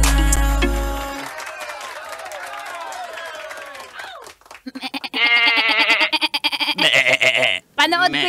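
Goats bleat loudly and repeatedly in short nasal cries, several overlapping in bursts close by, with a voice and music heard earlier in the clip.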